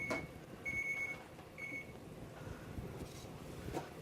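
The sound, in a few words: chef alarm thermometer beeping while cooking turkey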